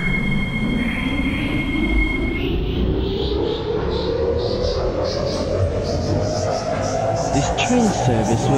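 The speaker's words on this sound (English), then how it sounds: "The train is about to depart." Video game metro train pulls away from a station with a rising electric motor whine, loud steady rumble and wheel noise, close and continuous, with a faint tone early on and no talking.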